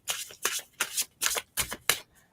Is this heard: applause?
no